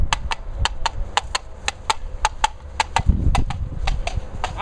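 Steady, evenly spaced hoof clip-clops of a horse, about a dozen sharp knocks in a brisk walking rhythm, close and fairly loud.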